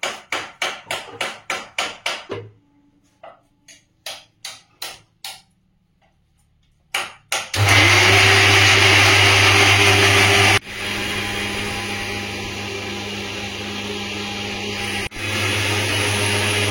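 A mixer grinder making a paste of green and red chilies, tomato and a little onion with water: quick clicks and short pulses first, then a long, loud, steady whirring grind that breaks off briefly twice before starting again.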